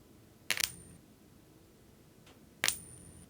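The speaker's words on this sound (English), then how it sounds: "yummy coin sound?" Two bright metallic coin-flip chimes from the video game Unfair Flips, spaced about two seconds apart, each ringing briefly with a sustained high tone, crisp and close over near silence.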